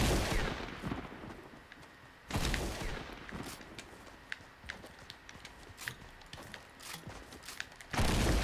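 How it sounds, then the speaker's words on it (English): Gunfire in the Fortnite video game: scattered sharp shots and rapid bursts crackle throughout, several loud blasts standing out against a busy in-game background, with no talking. "I could hear the shooting like right..."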